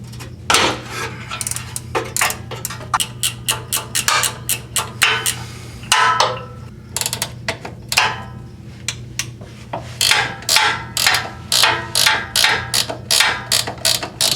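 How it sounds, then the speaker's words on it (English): Ratchet clicking in rapid bursts while loosening 14mm transmission mount bolts on a 1997 Subaru Outback, with repeated short runs of sharp metallic pawl clicks separated by brief pauses, close and loud over a steady low hum. "I'm going to have to use my ratchet for this last two."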